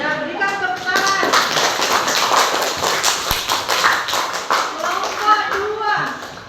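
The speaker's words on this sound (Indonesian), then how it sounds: "berikan tepuk tangan" A classroom group claps together at a school presentation, a dense patter of hand claps running steadily throughout with children's voices chattering over it.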